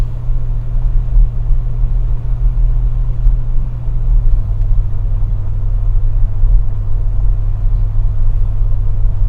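An old car with a worn carburetor and a repaired choke coil drives along, its engine giving a loud, steady low rumble close by. The tone dips slightly partway through and no one speaks.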